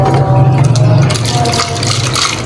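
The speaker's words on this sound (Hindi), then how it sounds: "थोड़ा सा पानी और डालूँगी" Water pours loudly into plum juice (aloo bukhara sharbat) in a home kitchen, a steady close splashing stream for about a second that then thins to a trickle, with no talk.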